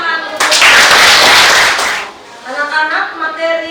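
Students in a vocational high school classroom break into a loud burst of applause lasting about a second and a half before a teacher's voice resumes.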